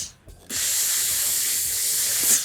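A steam iron releases a sustained blast of steam into fabric shaped over a ham-style pressing roll for a narrow curved rolled hem, starting after a short quiet gap and hissing steadily and loudly to the end, with no talking.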